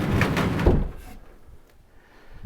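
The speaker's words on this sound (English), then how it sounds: "I can just one piece put this table away and then just slide it into here." A table slides into place with a short scraping rush and a soft knock near the start, then fades to faint room noise.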